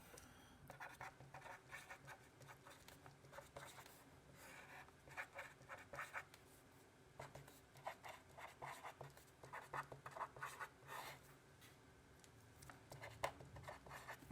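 Pen or marker writing on an overhead projector sheet during a trig identities math lesson, a steady stream of faint scratchy strokes and squeaks in short bursts, quiet and close, with no talking.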